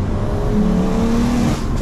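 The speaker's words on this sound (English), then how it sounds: "Now, guys, I'm like tickling the throttle." A stage 4 big-turbo BMW M140i drones steadily from inside the cabin, with a loud engine tone that rises slightly under light throttle and then eases, with no clear sharp blips.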